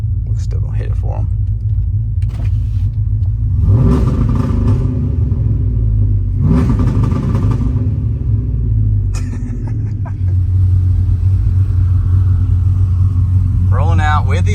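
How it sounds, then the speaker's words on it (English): A heavy truck engine idles with a deep rumble and is revved hard twice, loud and close, with brief voices at the start and end. "They wanna hear the truck, do the two-step."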